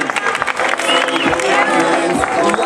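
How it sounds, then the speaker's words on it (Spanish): Loud crowd applause and cheering for a runner approaching at the Memorial Ángel Altabás road race, dense and sustained with voices mixed in throughout. "Un aplauso fuerte para él"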